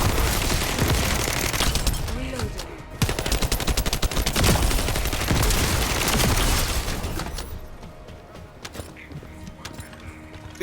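Shotgun fire in a video game comes in a dense, rapid burst of loud close shots with booming echoes for several seconds, then thins out into quieter scattered noises.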